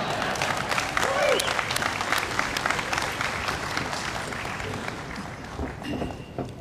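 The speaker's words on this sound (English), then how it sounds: "You can now cheer." A large crowd cheers and applauds at a naval change-of-command ceremony aboard the aircraft carrier USS Harry S. Truman (CVN 75). Steady, dense clapping mixes with whoops and rolls on loud and sustained, then eases slightly toward the end.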